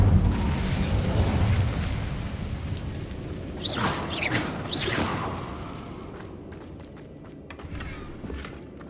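An Incendio fire spell cast in Hogwarts Legacy on PS5, a whooshing burst with rushing flame flaring loudly in the middle, then fading into crackling and softer mechanical clicks.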